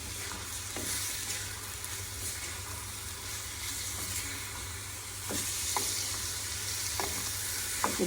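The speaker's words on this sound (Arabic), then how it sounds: "هانتوما تشحر مزيان." Vegetables fry in a pan with a steady, faint sizzle, punctuated by a few soft stirring clicks and taps, with no talk.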